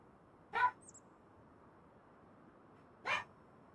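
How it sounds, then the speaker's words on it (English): A chihuahua yaps twice in the background, two short high barks a few seconds apart, faint and distant over quiet room noise. "Sorry if you hear a fucking chihuahua in the background barking."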